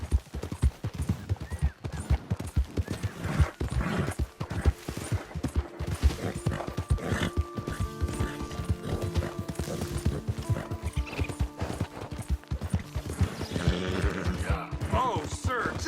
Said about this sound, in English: That's a strong-looking horse.